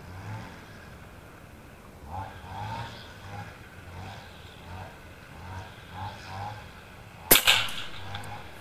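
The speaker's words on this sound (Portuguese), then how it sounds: "O quinto disparo." A single sharp air rifle shot from an FX Liner Superior barrel during a high-power accuracy test, a loud crack near the end after a stretch of low steady background rumble.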